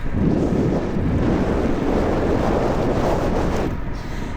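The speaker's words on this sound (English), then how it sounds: "It's very windy here." Strong gusts buffet an outdoor microphone with a steady, heavy low roar that rumbles throughout, easing slightly near the end.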